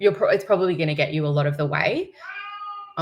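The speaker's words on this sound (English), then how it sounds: "sorry, that's my cat." A house cat meows once, a clear tonal cry near the close that follows a stretch of a person talking, loud and close.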